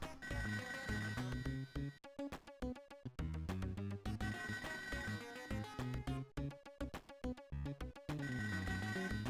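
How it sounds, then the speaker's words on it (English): An electronic phone rings repeatedly inside a Sega Genesis game, its chiming, pulsing tones mixed with loud, busy game music that cuts out and restarts several times. "Why do I hear a phone?"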